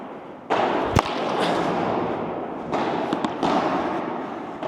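A Starvie Triton Pro 2024 padel racket smashes a ball, giving a few sharp, close cracks spread over several seconds against a steady court background.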